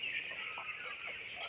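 A flock of 16-day-old broiler chickens clucks on a farm while scrambling for water. Their continuous, overlapping chatter is faint and steady throughout.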